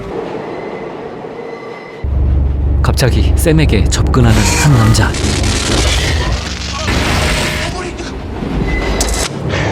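Subway train ride in the film Ghost: a heavy, close rumble of the moving carriage rolls in suddenly and stays loud and steady, with screeching, rattling wheel noise running under a narrator's voice and dialogue.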